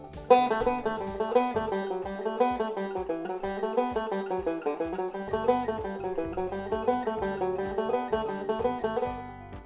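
Guitar playing a single-string six-note pattern exercise in reverse, moving through every mode up and down the neck; a steady stream of clean plucked notes, close and alone, with no talking.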